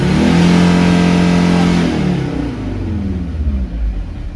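A car engine is revved hard at full throttle during a vehicle inspection: a loud, sustained high-rpm roar that holds steady, then drops off into a rougher, lower rumble as the revs fall.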